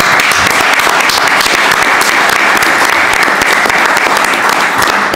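Dense, loud applause from an audience at a book presentation fills the room steadily, many hands clapping at once without pause or voices.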